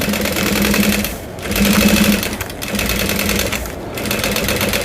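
A sewing machine stitches a bowler bag with a loud, steady mechanical whir close up, rising and dipping slightly in a few pulses as the fabric is fed through.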